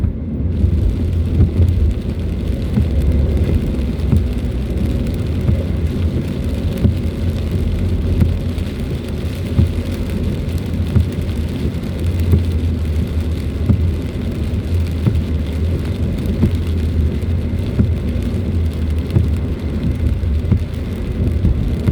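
Heavy rain and thunder during a stormy highway drive near Metro Manila, a dense continuous roar of rain and road noise with low rumbling underneath, loud and unbroken throughout.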